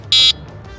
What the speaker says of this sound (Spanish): Ahí está el pito.